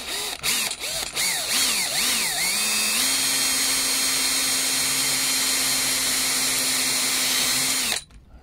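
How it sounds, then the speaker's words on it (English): A power drill fitted with a brad point bit bores into the underside of a loose-jointed wooden chair, a few quick revving starts, then a long steady whine for several seconds before stopping abruptly. "I think I'm going to drill underneath here"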